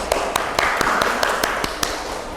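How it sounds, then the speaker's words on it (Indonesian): A classroom gives a short round of applause, sparse claps popping at an uneven, quick rhythm, fairly close and a little thin, fading out after a couple of seconds. "Ya, kasih aplaus."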